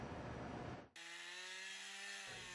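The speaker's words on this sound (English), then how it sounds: "Choking smoke swells amid the buzzing of dozens of chainsaws under the majestic Nyiragongo volcano" Chainsaws cut trees in a forest park beneath the Nyiragongo volcano: a loud, close, buzzing roar as a blade bites into wood, then a high, steady whine as the saw runs on.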